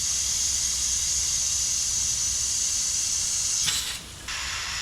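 A paint spray gun hisses steadily under compressed air while repairing a Nissan Titan bumper, a loud continuous hiss that cuts off briefly near the end before a quieter hiss resumes.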